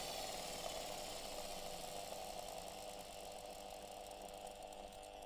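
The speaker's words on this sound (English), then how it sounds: "So this is the lowest speed on which you can run the grinder." A Parkside PFDW 120 A2 double bench grinder runs steadily at its lowest speed, making a continuous, even motor whir with a faint mechanical rattle, close and unbroken throughout.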